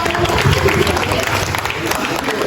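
Classroom audience of university students applauding classmates during a public speaking session, a steady dense wash of many hands clapping close by, filling the whole stretch with little variation.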